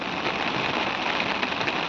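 Heavy rain pouring down in a dense, constant hiss of drops striking surfaces, close and loud throughout, with no voices.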